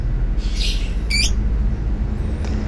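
A lovebird gives a few brief, sharp high chirps against a loud, steady low rumble of background noise.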